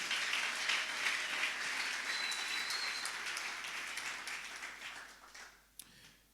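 Church congregation applauding and acclaiming with joy, a dense, steady wash of clapping that fills the room and slowly fades toward the end, with no voices standing out.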